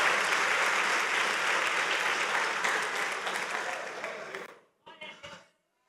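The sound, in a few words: congregation applauding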